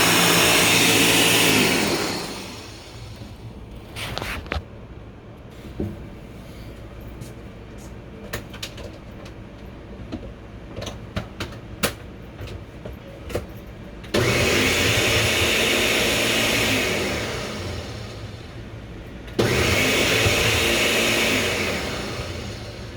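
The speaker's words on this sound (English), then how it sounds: "Now I'm going to take this to the blender and blend it up." A kitchen blender whirs loudly as it blends a cheese flan mixture, first in a short burst, then after a quieter stretch of clinks and handling, in two longer loud runs split by a brief pause.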